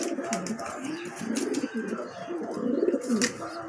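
A pair of saddle racing pigeons sitting in a loft coo repeatedly up close, soft throaty rolling calls overlapping in an uneven rhythm with a few faint chirps.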